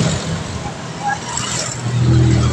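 Road traffic rumbles past on a commute home from a construction job, with engine hum swelling louder toward the end and a voice heard beneath the vehicles.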